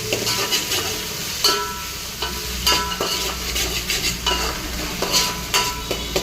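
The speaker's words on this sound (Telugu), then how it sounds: "ఇప్పుడు దాంట్లో కొంచెం అల్లం పేస్ట్ వేస్తున్నాం. కొంచెం అల్లం పేస్ట్ ఫ్రై చేసి" Browned onions with ginger paste frying in a pan for bagara rice, a steady sizzle punctuated by regular scraping stirs of a spoon against the pan, close and without talk.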